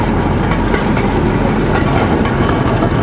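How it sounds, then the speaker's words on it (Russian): A narrow-gauge railway train in the remote Komi countryside clatters loudly and continuously over rough rail joints, with a steady rumble and rattling wagon noise close by and no voices. "Капец стыки, да?"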